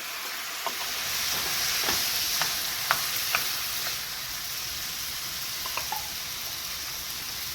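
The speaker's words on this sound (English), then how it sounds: "And now I'm going to put some of my my diced tomatoes in." Diced tomatoes cook in a hot pan with zucchini, a continuous sizzle dotted with scattered utensil clicks and scrapes, heard up close without speech.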